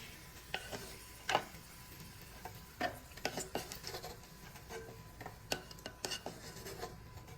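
Fried cashews and raisins being scooped out of a pan with a metal spoon: scattered scraping clinks of utensil against pan, irregular and fairly close, with no talk.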